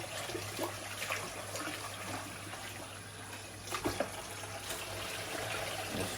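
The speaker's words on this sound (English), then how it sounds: "If you see all the starch coming off it, so that's, I've rinsed it there once. We go in again." Rice being rinsed in water, with soft continuous sloshing and trickling, a few small splashes and clinks standing out near the end, fairly quiet and close, with no talking.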